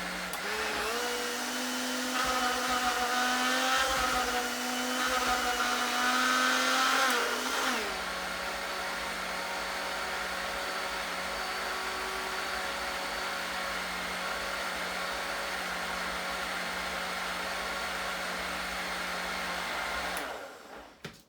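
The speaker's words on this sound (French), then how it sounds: "Après avoir mis le manioc dans le mixeur, je vais rajouter un peu d'eau et puis écraser." A kitchen blender crushes cassava with water, running loud and steady with a high whine that drops in pitch partway through, then continues evenly before cutting off near the end.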